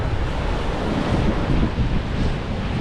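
Sea waves and steady wind roar at a Baltic shore near Klaipėda, heard as a loud, constant wash with wind buffeting the microphone and no voices.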